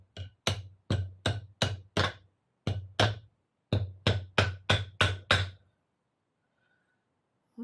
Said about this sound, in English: yes, I know I shouldn't be using a claw hammer for this.